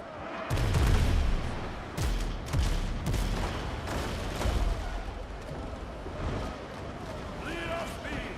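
Ship cannons fire at sea in a naval battle, several heavy booms spaced a second or so apart with rumbling tails, heard over a busy mix of combat noise and some talk.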